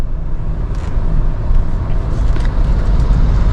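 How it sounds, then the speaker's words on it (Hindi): A car creeping forward in first gear with the clutch fully released and no accelerator gives a steady low engine and road rumble, close and continuous. "देखो बिना एक्सीलरेटर के गाड़ी आगे बढ़ रही है"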